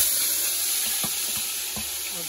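Chicken fries in a pot for Delhi-style achari biryani, a steady hissing sizzle with several short knocks and scrapes from stirring, no speech.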